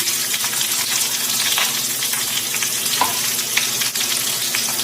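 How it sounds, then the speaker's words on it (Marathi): Plenty of chopped onion tipped into hot oil for a Marathi-style dal tadka along with curry leaves, green and dried chillies and garlic, giving a steady, loud sizzle and frying hiss throughout, with occasional stirring scrapes. "आणि भरपूर असा कांदा टाकून घेते."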